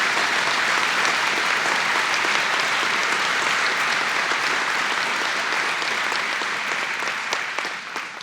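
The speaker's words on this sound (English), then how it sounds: "Let's give everyone a round of applause." An audience applauds at an agency honor awards ceremony. The clapping is dense and sustained for several seconds, then thins slightly near the end.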